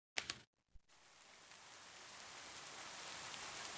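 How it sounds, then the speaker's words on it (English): Rain ambience set as a backdrop for a tabletop roleplaying session, a steady hiss of falling rain fading in and building after a couple of brief clicks, with no voices. "As it is raining around you guys"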